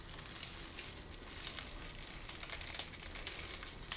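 Firm dry tea leaves handled up close, a dense run of light crisp rustles and crackles with small scattered clicks, soft and continuous, no talking.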